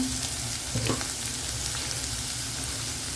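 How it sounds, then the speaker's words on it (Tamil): Ground onions sauté in a pan for a spicy mushroom gravy, giving a soft, even frying sizzle with a brief stir or clink partway through. "கொஞ்சம் வதங்கட்டும்"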